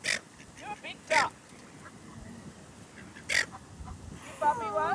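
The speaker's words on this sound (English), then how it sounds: "You're a big duck." Big colorful ducks at Murray Bridge, South Australia, give several short quacks in bursts, fairly close, with quiet pauses between and people talking softly in the background.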